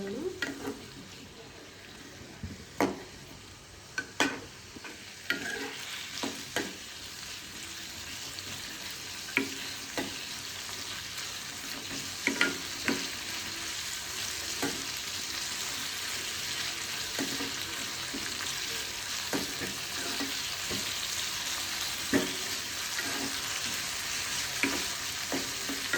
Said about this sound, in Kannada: ಟೊಮೊಟೊನ ಬೆಂದಾಗ ಫ್ರೈ ಆಗಲಿ, ಅದಕ್ಕೋಸ್ಕರ ಟೊಮೊಟೊನ ಫ್ರೈ ಮಾಡ್ಕೊಳ್ಳೋಣ